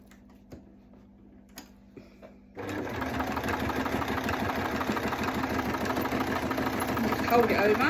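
A home sewing machine stitches an oversized hot pad, starting after a few light clicks and then running in a steady, loud continuous whir that builds slightly toward the end.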